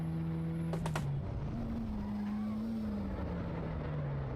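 Car engine in the Assetto Corsa Evo driving game shifted into second gear, a steady engine hum that drops in pitch at the shift, then settles into a sustained drone with road rumble.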